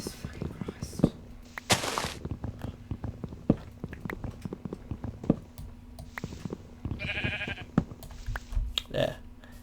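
Sheep bleating in the video game Minecraft, a few short nasal bleats over soft clicks and footsteps of gameplay, with a quiet voice murmuring now and then.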